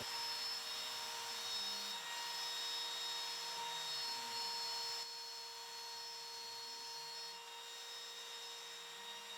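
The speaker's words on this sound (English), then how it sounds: "This is a demo of the Fireball CNC router." A Fireball CNC wood router, computer-controlled with a work envelope about two feet square, runs with a steady high motor whine and tonal hum that shifts slightly in pitch, continuous and fairly quiet with no voices.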